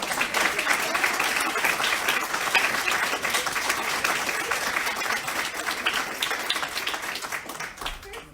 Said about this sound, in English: I want to give Dr. Phillips another round of applause